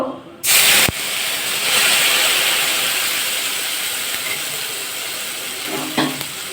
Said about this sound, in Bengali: একটু জল দেবো দিয়ে গুলে নেব তেলের মধ্যে দিয়ে দেবো